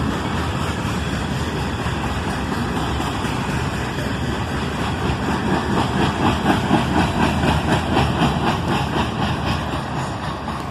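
Freight train rolling past with a string of coil shield cars on the Toledo sub, a steady loud rumble and rhythmic wheel clatter continuing throughout, close to the track.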